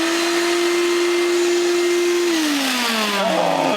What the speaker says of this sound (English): So we are using Shop Vac Junior.